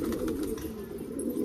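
Soft, low pigeon cooing hums steadily throughout, with faint chirps and rustling noise in the background.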